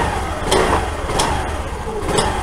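A used scooter engine runs close by, with its idle rising in a few short revs as the throttle is blipped roughly every second.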